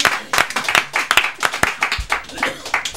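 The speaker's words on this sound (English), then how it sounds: "you guys get more applause than just about any band we ever have on the show" Studio audience applause at a televised music show, dense scattered clapping throughout, with some voices mixed in.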